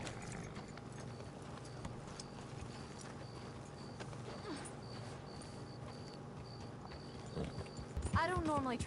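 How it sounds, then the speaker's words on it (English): Horse hooves walk at an even, repeated clip-clop pace in the video game Red Dead Redemption 2, fairly quiet under game ambience, with a louder burst of sound near the end. "We'll need to go on a horse."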